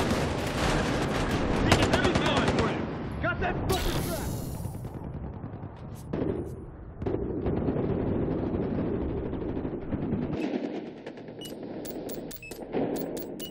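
Gunfire in the Battlefield Hardline video game, rapid automatic bursts and single shots crackling close and loud, mixed with explosions and chaotic in-game noise, with a voice talking over parts of it.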